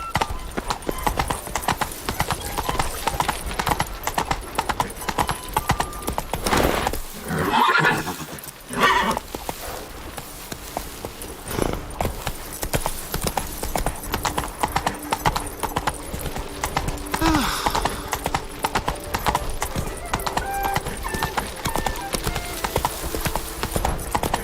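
Roach, a horse in The Witcher game, galloping with a steady drumming clip-clop of hooves throughout, broken by loud whinnies and neighs, with occasional talk in the background.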